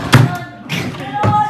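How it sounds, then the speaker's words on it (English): Hotel room drawers yanked open and shut, giving three hollow thumps and knocks spaced about half a second apart, close up with a faint room tone between them. "Bethany's now inspecting all the drawers."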